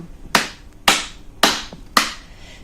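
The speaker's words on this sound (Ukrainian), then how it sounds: "Під мажорну музику будемо плескати долонями в ритм" Four sharp hand claps in a kindergarten music lesson, evenly spaced about half a second apart, close and crisp with no music audible.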